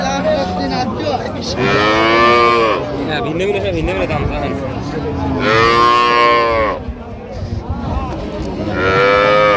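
Several dairy cows and calves moo loudly and close, long drawn-out lowing calls repeating, with people talking in the background of a busy livestock market at Raniganj Haat, Dinajpur.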